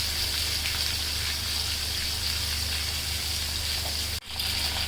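Koi fish sizzling in hot oil in a kadai, an even close hiss with soft crackling that runs steadily, broken only by a brief sharp knock near the end.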